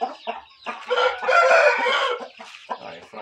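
A rooster on a Brazilian farm stable crows loudly and close, a long strained call peaking mid-clip, with short clucks and fowl calls before and after; no talking.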